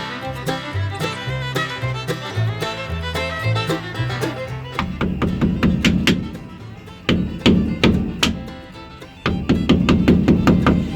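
Sharp mallet blows ring out beneath a 1978 Chevy K20 4x4 truck during pinion seal work, a slow uneven series of loud metallic knocks and taps with short pauses between bursts.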